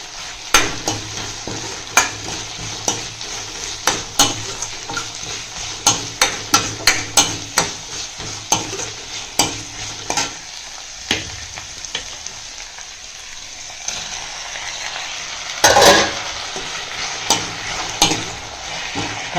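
Onion, curry leaves, green chillies and tomatoes sizzle in a pan for dal, a steady frying hiss punctuated by frequent sharp clacks of a spoon scraping and tapping, with a louder burst of sizzling late on.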